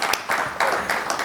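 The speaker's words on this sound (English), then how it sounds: "So a big round of applause quickly before they start." An audience at a GenAI in financial services conference session applauds before the speakers begin, a short burst of scattered clapping, fairly close and brief.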